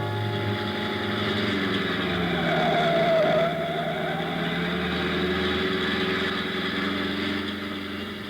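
A car engine drones loud and steady during a getaway chase toward San Juan, swelling slightly midway and then easing, with no talk over it.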